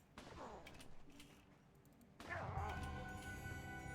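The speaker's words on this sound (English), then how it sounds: "let me shoot you with my non-lethal training bullets" Rapid gunfire in a video game sounds as a quick string of sharp shots, then a denser burst of heavier firing and mechanical clatter, with a voice talking faintly underneath.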